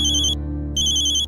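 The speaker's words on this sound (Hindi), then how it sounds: "देखिए उसका फोन भी आ गया" A phone ringtone sounds for an incoming call: two loud bursts of repeating electronic tones with a short gap between them, over a low background hum.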